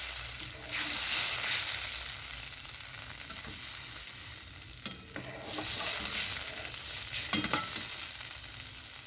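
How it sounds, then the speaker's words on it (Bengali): White mustard seeds and dried red chillies sizzle in hot oil as tamarind water goes in, a steady close frying hiss with occasional spoon scrapes and stirring clatter throughout. "ফোড়নটা একটু ভাজা হয়ে গেলে তারপরে তেঁতুল জলটা দিয়ে দিতে হবে"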